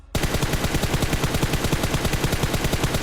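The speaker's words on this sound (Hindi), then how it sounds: "साइड से फायरिंग चली थी" Sustained automatic gunfire from PUBG, a rapid, evenly spaced burst of shots firing loud and continuous for about three seconds after a brief quiet start, with no talking.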